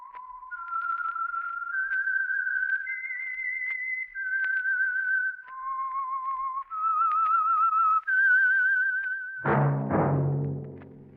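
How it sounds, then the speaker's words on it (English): A clear, loud melodic whistle, the theme of the 1947 radio drama The Whistler, one note at a time rising and falling with slight vibrato, followed at the end by a burst of brassy music. "That whistle is your signal"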